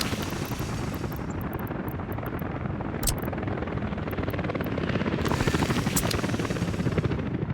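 Helicopter in the city-building game Workers & Resources, a firefighting chopper whose dense rotor thump and engine whine run continuously and loudly, with a few sharp ticks and a swell near the end.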